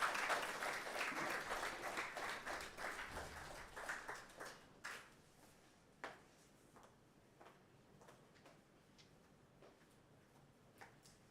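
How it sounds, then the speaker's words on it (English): Audience applause at a climate fellowship and grant award ceremony, a dense burst of clapping that thins after about four seconds into scattered, isolated claps until near silence. "Another round of applause."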